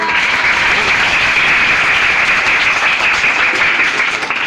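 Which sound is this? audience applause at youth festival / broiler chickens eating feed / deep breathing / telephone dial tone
audience applause at youth festival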